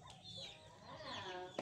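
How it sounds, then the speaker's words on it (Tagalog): Chickens cluck softly around a farmyard, with a few short, faint calls in a quiet outdoor setting and no voices. "Daming manok dito."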